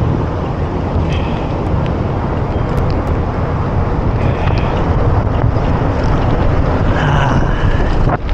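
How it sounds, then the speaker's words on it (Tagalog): Strong headwind roars across the microphone of a bicycle riding around Mall of Asia, a loud, unbroken rumbling buffet that fills the whole stretch with no voices. "Hangin, ang lakas ng hangin. Grabe yung headwind na yun."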